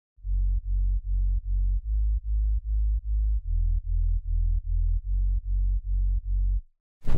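Deep synth sub bass in a hardstyle track pulses in a steady rhythmic pattern of short, heavy low notes, stopping abruptly near the end.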